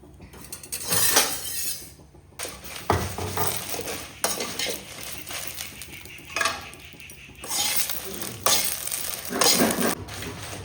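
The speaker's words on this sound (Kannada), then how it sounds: "ಈಗ ಇದಕ್ಕೆ ಸ್ವಲ್ಪ ಎಣ್ಣೆ ಹಾಕ್ಕೊಂಡು ಫ್ರೈ ಮಾಡಬೇಕು" Chicken masala frying in oil in a pan over a low flame, with a metal spoon scraping and clinking against the pan in repeated bursts between quieter stretches of soft sizzle.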